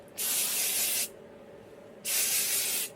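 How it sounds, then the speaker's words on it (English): Two long bursts of hair protection spray hiss up close onto damp hair, each lasting about a second with a short pause between them. "I just spray it into my damp hair all over"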